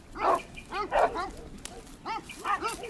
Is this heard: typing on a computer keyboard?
no